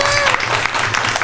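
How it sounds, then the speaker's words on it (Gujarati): A gathering of devotees at a satsang claps steadily in a brief, loud, close burst of applause, with a voice briefly audible alongside. "ઘેર માટે તાળીઓ પાડવાની"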